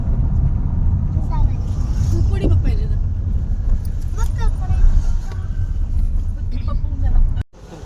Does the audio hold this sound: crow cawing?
no